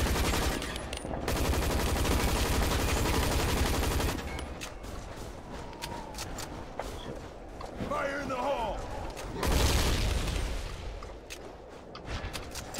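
Bursts of video game gunfire with grenade explosions, heavy sustained volleys at the start and again later, with quieter gaps of scattered shots and effects between them, a voice talking over parts of it.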